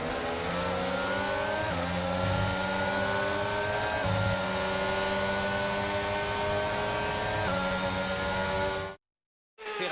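A Ferrari race car in a racing video game drives toward parc fermé, its engine holding a loud steady drone with rising gear-change sweeps, then cutting out abruptly near the end.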